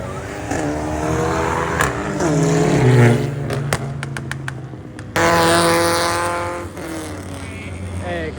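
Honda Type R FL5 and FK8 cars rev their engines at a night gathering in Kuantan, with rising and falling revs, a sharp burst partway through and voices talking underneath.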